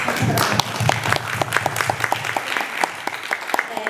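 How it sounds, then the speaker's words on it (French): An audience claps for a staff member after a speech, a dense round at first thinning into a handful of distinct, rhythmic claps close by. "J'ai envie qu'on l'applaudisse en fait."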